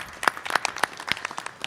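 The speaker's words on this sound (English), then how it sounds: "round of applause for the high school students that are here" Applause for high school students at a live chamber of commerce event, a brief scattered round of clapping from a modest crowd in a room, with no talking over it.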